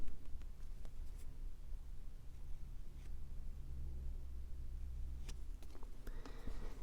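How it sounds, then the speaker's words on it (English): A pencil draws a straight line across a balsa wood fuselage side for an RC plane, a faint scratchy scrape running steadily over a quiet room hum with a few light taps. "And then I need to draw a straight line across it"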